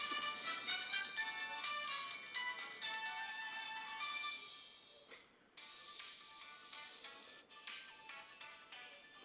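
Sonic Rumble game audio plays from a REDMAGIC 10 Pro gaming phone: bright, busy music and jingles that stop for a brief gap partway through, then resume. The sound is fairly quiet overall.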